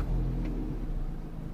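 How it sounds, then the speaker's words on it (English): A Vauxhall/Opel Astra H with a 1.8 engine, which has a running-lean fault (P0170), starting up and settling into a steady idle. A close, continuous low engine rumble and whir carries on alone throughout. "we're going to start the engine, because the engine right now is off"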